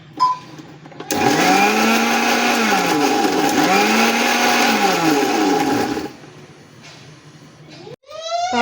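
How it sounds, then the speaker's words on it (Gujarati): An electric blender grinds garlic, dry chilies, cumin and salt into a paste, a loud whirring motor running for about five seconds with wavering pitch as contents churn, then stopping, followed by a brief voice. "હવે આપણે એને પીસી લઈએ એકદમ પેસ્ટ બનાવી છે"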